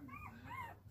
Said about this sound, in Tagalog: Yan po ang mga aso niya.